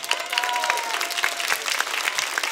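A theatre audience at a children's cantata claps steadily for the band, a dense, bright wash of applause with a few louder individual claps standing out near the front.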